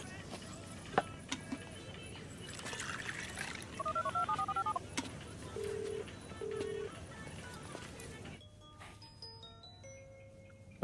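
A telephone being dialed: a string of electronic keypad tones beeps out a number over a murmur of background noise and voices, followed by higher tones near the end.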